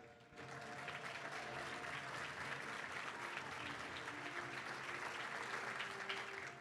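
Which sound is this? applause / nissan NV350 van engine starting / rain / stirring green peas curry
applause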